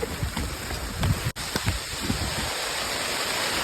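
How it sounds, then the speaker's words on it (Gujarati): Heavy rain pours down in a steady, dense hiss, loud and close, with a brief dropout partway through before the downpour continues unbroken. "બહુ વરસાદ આવ્યો"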